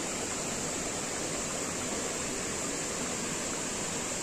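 Water pours down from above in a steady, broad rush beside a small dam near a temple at Rajapur, a constant close-up roar with no voices.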